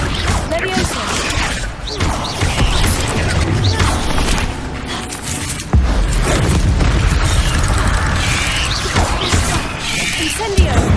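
Hogwarts Legacy battle spells, Incendio, Accio and Levioso, are cast one after another, giving loud booms, crashes and whooshing impacts over dense, continuous game noise.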